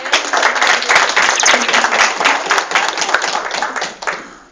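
A group at a clinic claps for a patient, giving steady, close, lively applause with individual claps audible that fades out near the end.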